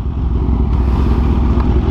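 A 2023 Kawasaki H2 Carbon supercharged motorcycle engine runs close by, a loud, deep, steady throb with a rapid pulsing beat and a mechanical clatter on top, holding a constant pitch throughout.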